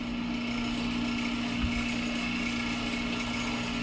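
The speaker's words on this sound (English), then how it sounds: "So we'll do more drilling here." Power drill boring out the rivets of a clutch lining on a pressure plate, a steady continuous whine and grind held close and loud throughout, with no talking.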